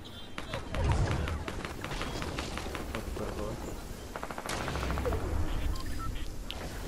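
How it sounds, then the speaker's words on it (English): Gunfire in Fortnite, a scattered run of sharp shots, mostly mid-distance, over a busy game soundscape with occasional low thumps; people talk over it. "Somebody shooting."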